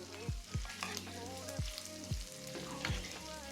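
Bread pizza frying in a pot: a steady low sizzle runs throughout, with a few soft scraping or stirring knocks, close by and with no talking.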